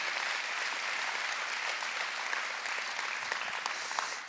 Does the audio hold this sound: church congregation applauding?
yes